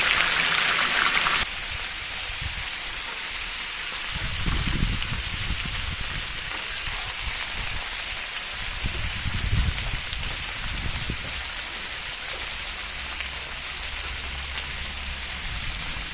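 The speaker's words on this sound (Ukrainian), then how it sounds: "риба в процесі. Починаємо обсмажувати." Silver carp fish fries in a pan with a continuous crackling sizzle, close and steady, swelling in brief bursts as the pieces settle in the hot oil.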